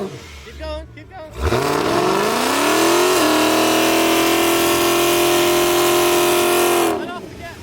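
An 800whp Dodge Challenger Hellcat roars into a sustained, loud burnout rev, pitch climbing then holding at a high steady wail for several seconds before dropping off, with brief talk just before and after.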